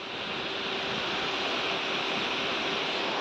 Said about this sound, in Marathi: पाईपलाईनचं पाणी किती लांब उडत आहे आपण पाहू शकतात